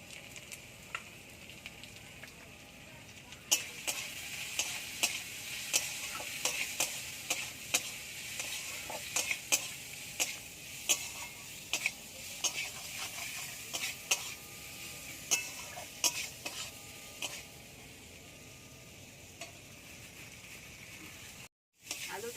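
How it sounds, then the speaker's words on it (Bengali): Potatoes fry in a pan with salt and turmeric, giving a steady sizzle with frequent sharp ticks of a spoon stirring and scraping, close and fairly quiet, with no talk. "একটু ভেজে নিতে হবে আর দিয়ে দেবো লবণ হলুদ"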